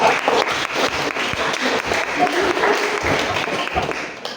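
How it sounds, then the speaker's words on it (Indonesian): A classroom applauds a student group with steady, dense clapping from many hands, with voices underneath. "Beri aplaus kepada kelompok 2"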